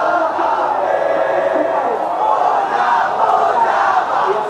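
Indonesia national team supporters roar and chant in unison at GBK stadium during a night match against Bahrain, a loud, continuous wall of crowd voices filling the whole moment without pause.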